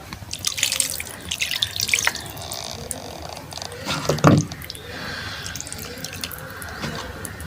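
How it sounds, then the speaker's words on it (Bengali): A small amount of water poured into a pan of onion-coated hilsa fish, heard as close, irregular trickling and splashing with one fuller splash partway through, and no talking. "এবার আমি অল্প একটু জল দিয়ে দেবো।"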